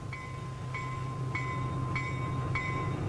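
A diesel locomotive on a Pennsylvania shortline railroad, its horn sounding in five evenly spaced toots over a low, steady engine rumble at moderate distance.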